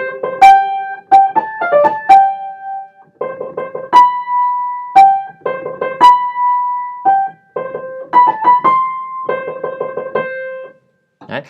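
A theme played on solo piano, a bold sequence of stacked chords and held notes with short gaps between phrases, close and clear with no voices.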